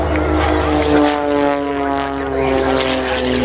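A propeller-driven aerobatic display aircraft with a smoke system makes a low pass at an airshow, its engine giving a loud, sustained droning whine that swells slightly and stays close, with no voices heard.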